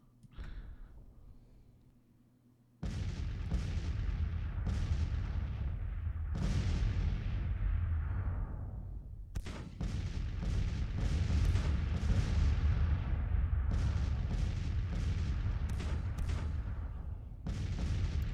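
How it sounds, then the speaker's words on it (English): Civil War artillery in the Grand Tactician strategy game pounds away in a dense bombardment, with booming cannon shots landing in quick succession over a continuous rumble after a quiet opening, loud and close. "Got a fairly decent bombardment going on here."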